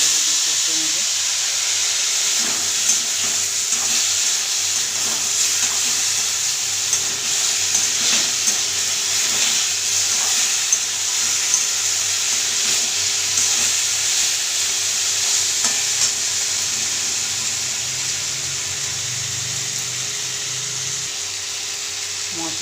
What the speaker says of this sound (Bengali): আর একটু জল দেবো, দিয়ে কষে নেবো।